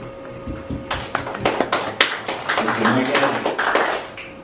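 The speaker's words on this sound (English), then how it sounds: "Everybody, let's give the acting superintendent a round of applause for being here." A legislative special session crowd gives a round of applause for the acting superintendent, bursts of clapping rising and thickening over a few seconds with voices mixed in.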